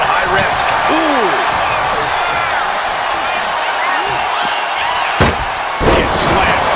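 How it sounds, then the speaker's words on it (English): A wrestler is slammed to the mat in WWE 2K25, a sharp thud or two rising above steady crowd noise and running commentary in the arena. "Gets slammed down."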